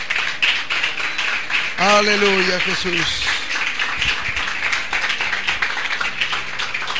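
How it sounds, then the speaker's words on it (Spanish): A church congregation claps steadily through the scene while a voice calls out praise, the applause staying loud and continuous under the shouting. "Denle un fuerte aplauso al Señor."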